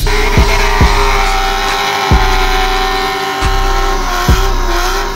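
Custom Nissan 240 drift car at a GridLife event, its engine loud and close, revving in repeated sharp blips over a steady high idle, with short bursts of tire squeal mixed in and no talking.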